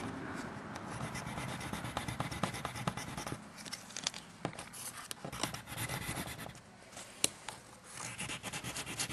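Steady scratchy rubbing on the cut corner of a computer RAM stick to expose its gold, a close, continuous rasping friction with small sharp clicks and ticks scattered through it.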